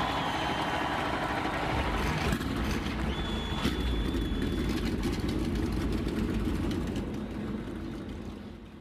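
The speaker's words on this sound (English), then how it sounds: "Cars fired up" Race car engines fire up at the start of a NASCAR video game race on a short half-mile track, a continuous low, rumbling roar that holds steady before gradually easing off near the end.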